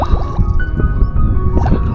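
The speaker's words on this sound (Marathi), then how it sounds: "तर मी बाटली भरली त्यात बऱ्यापैकी चांगलं पाणी मिळालं आहे" River water gurgling and splashing into a bottle being filled, with irregular close drips and glugs over a steady watery background.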